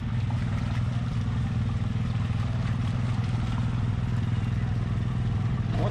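An ATV engine drones loud and steady under throttle while stuck in deep mud, a continuous close rumble with clattering over it and a voice calling out beneath.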